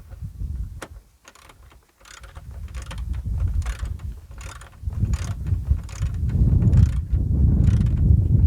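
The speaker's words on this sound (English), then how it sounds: "we can just tighten up that bottom bolt and screw" Ratcheting clicks from tightening a bolt and screw while installing rear interior trim in a Mitsubishi 3000GT/GTO, close rhythmic mechanical clicking in short runs with pauses, no talking.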